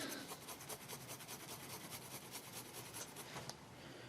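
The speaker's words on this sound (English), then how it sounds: "Wipe away the excess." Excess paint being wiped off a Tamiya 1/12 scale model, heard as soft, rapid rubbing strokes in a steady rhythm, close but very faint, with no talking.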